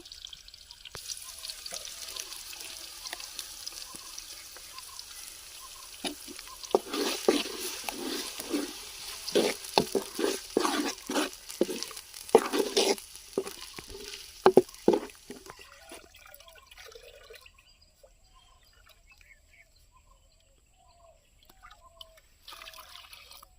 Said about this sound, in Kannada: ನೋಡಿ ಈರುಳ್ಳಿ ಫ್ರೈ ಆಗಿದೆ ಇವಾಗ ರುಬ್ಕೊಂಬಂದಿರೋ ಮಸಾಲೆ ಹಾಕ್ತಾ ಇದ್ದೀನಿ